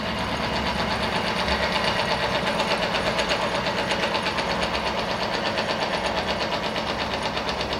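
Electric motor driving a lubricant friction test machine, a steady mechanical hum with a fast regular rattling pulse, close and constant.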